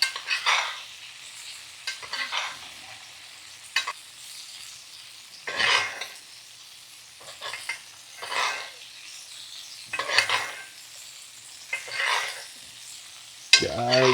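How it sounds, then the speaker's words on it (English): A bavette steak sizzling in a hot cast iron pan while butter is spooned over it, bursts of loud spitting sizzle roughly every two seconds as each spoonful hits, with a low steady fry between, close up and no talking. "we're just gonna baste on that butter"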